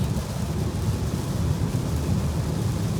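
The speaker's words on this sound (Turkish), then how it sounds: "Yağmur hiç hız kesmedi. Hala felaket yağıyor." Heavy rain pours steadily with a low rumble of thunder underneath. The roar is constant and fills the whole stretch, with no voices.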